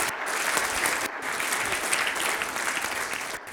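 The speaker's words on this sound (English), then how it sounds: "Let's give everyone on the stage a big round of applause for all their help." An audience at a panel discussion applauds the people on stage, giving steady, full clapping from a medium-sized crowd that carries on evenly for several seconds.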